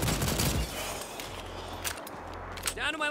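Rapid gunfire in the Left 4 Dino video game, a dense burst of shots up front easing into quieter scattered firing and footsteps.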